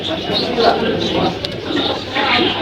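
Pigeons coo softly in low repeated calls amid steady crowd chatter and nearby voices at a busy pigeon market in Dhaka.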